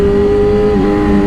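A motorcycle engine drones loud and close as it accelerates during a stunt attempt, a steady strained tone with a slight pitch dip partway through.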